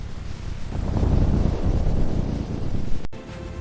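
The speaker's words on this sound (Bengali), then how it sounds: "হঠাৎ আকাশ কালো হয়ে বৃষ্টি নামল।" Stormy wind with a rumbling, rain-like roar for a children's story scene of a sudden downpour under a darkening sky, swelling loud and steady and then cut off by a brief gap near the end, with no voices.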